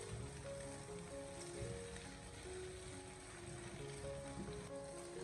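Egg pancake frying in a pan over medium-low heat, with a steady, dense sizzle throughout and faint background music tones on top.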